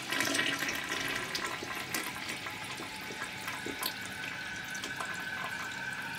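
A clogged toilet is flushed, water gurgling and rushing steadily with small splashes and drips as it rises in the bowl, heard close and fairly quiet.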